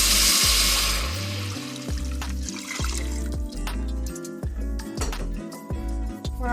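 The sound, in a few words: pouring broth into pot of vegetable soup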